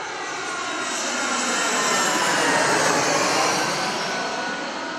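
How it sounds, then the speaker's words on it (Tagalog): Inside a passenger airplane cabin during landing on a flight to Japan, a loud, steady engine and air roar fills the space. It swells gently in the middle and holds without a break. "hindi pala naririnig yung sinasabi ko ang ingay sa loob ng eroplano"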